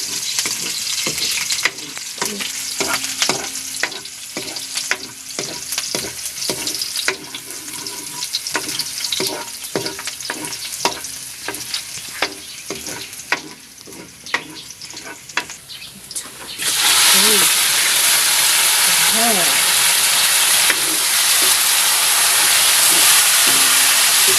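Lemongrass sautéing for chicken tinola, with steady frying sizzle and repeated stirring clatter, then a louder, denser hiss as the pan heats up near the end.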